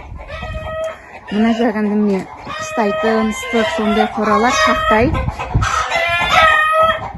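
Farm hens clucking in a coop, with a rooster crowing among them, sound loud and close throughout, layered under a person talking nearby.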